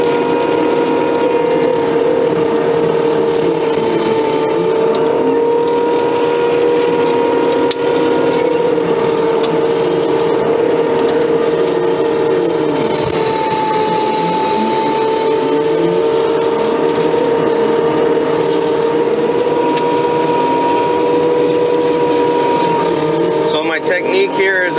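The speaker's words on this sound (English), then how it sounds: "stump grinder attachment. It's pretty impressive." A stump grinder attachment on a Case skid steer chews into tree stumps with a loud, steady engine drone and a continuous rasping grind, the pitch rising and falling as the cutter sweeps back and forth.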